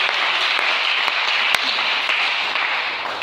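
A church congregation applauds together, steady dense clapping with a few louder claps standing out, sustained at even volume throughout.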